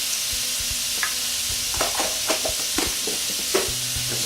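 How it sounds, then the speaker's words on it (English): Half an onion chars on a George Foreman indoor/outdoor electric grill, giving a steady close sizzle and hiss broken by several small scraping, stirring clicks. "so I'm just going to char that up a little bit."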